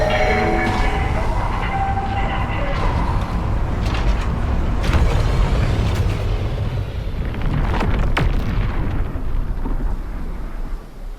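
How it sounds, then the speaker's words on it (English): A UESC dropship arriving in the sci-fi shooter Marathon, a loud, sustained roaring rumble like a passing train or thunder, with gritty crackling bursts swelling and fading across the whole stretch. "UESC dropships make a big disperse sound when they're about to come drop reinforcements."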